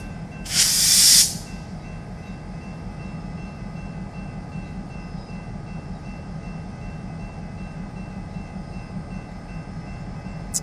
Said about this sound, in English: Those are our locomotives.